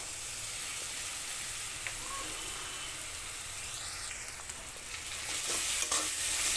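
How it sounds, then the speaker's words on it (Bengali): Spices with ground cumin paste stirred in hot oil for a soybean curry: a constant close sizzle with light scraping, swelling louder near the end, with nobody speaking. "সব কিছু ভালো করে মিশিয়ে নিচ্ছি"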